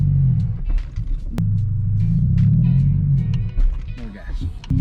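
A manual car fitted with a racing clutch gives a close, deep engine rumble that swells and dips as gas is fed in while the clutch is let out, with people talking over it.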